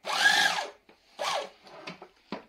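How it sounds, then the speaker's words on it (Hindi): A Revo model DA bag sewing machine runs in short bursts: a loud whirring stitch run of about a second, then a shorter burst and a few brief mechanical clicks and thumps, close up. "चलो जी, अब जल्दी से हम एक सिलाई मार देते हैं।"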